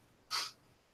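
A single short, sharp sneeze, close and fairly loud, breaking an otherwise quiet moment.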